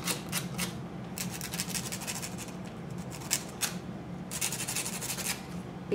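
An emery board files the rough edges and corners of a domino tile, giving close, rapid raspy scraping strokes in bursts with brief pauses between them.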